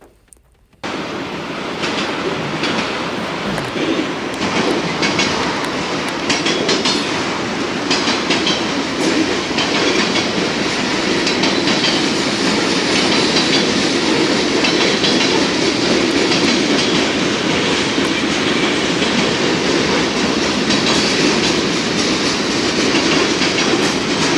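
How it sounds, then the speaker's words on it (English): A long train rolls steadily past in the open, seen through trees, with a continuous dense rumble and rhythmic clickety-clack of wagon wheels on the rails, loud and close throughout. "there's the rest of the train"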